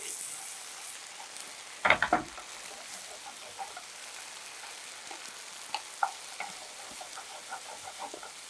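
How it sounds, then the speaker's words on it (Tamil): Ginger garlic paste frying in a pan while cooking a chicken thokku, with a soft steady sizzle throughout and a few louder clatters near the start, like a spoon stirring. "இஞ்சி பூண்டு விழுது சேர்த்துட்டோம்."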